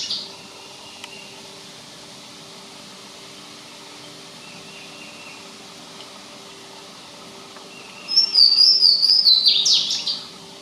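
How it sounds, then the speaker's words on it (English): Louisiana waterthrush singing in woodland, a short, loud burst of ringing, slurred notes arriving after a long stretch of quiet forest background with a low steady hum. "no other warbler makes its voice heard like the Louisiana water thrush"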